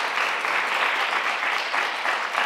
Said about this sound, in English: please give a huge round of applause to Robyn